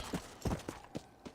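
Horse hooves clip-clopping at a walk in the video game Red Dead Redemption: Undead Nightmare, five soft, evenly spaced thuds, faint and alone.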